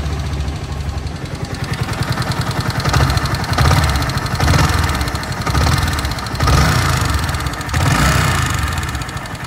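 Yamaha R15 V3 BS6 fuel-injected motorcycle, said to have a faulty sound, idling up close with a steady low engine rumble that swells in repeated surges roughly every second and a half.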